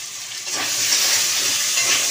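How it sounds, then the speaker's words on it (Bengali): A pot of rice boiling on a home stove, a steady bubbling hiss that holds loud and close throughout with no break. "এদিকে মনে হচ্ছে ভাতটা আমার ফুটে গেছে"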